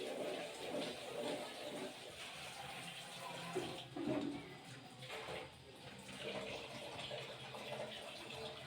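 About one and a half glasses of water pour into a pot of spicy mutton liver masala cooking on the stove, a soft steady splashing stream, faint and close, lasting several seconds.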